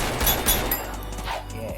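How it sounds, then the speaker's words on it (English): An automatic shotgun fires in Ragdoll Universe, giving a quick burst of loud, booming blasts in rapid succession with no one talking. "Auto shotgun. It's an automatic shotgun."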